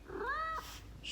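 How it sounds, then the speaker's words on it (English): A pet cat lets out a single rising-then-falling meow, close and fairly loud, lasting about half a second, followed by a faint short second call, with a quiet room and a hint of a voice at the end. "Shlaki, that's my cat"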